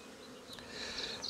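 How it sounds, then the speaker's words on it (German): Honeybees buzz in the honey super of an opened hive, a faint, steady drone of many wings that swells a little toward the end, with no voices. "Das ist jetzt der Blick in den Honigraum. Leer, aber dennoch voll mit Bienen."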